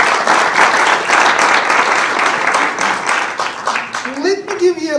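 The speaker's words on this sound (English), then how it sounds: "So I would like to give you a big round of applause if you don't mind." An audience at a high-level reception at John Jay College of Criminal Justice breaks into loud, sustained applause that fills the room for about four seconds, then fades as a voice begins speaking.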